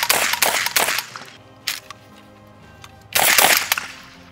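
A 12-gauge revolver fired outdoors, with three loud, close blasts: two in quick succession at the start, then a third after a short pause. Each leaves a long ringing decay, and a faint click falls between the shots.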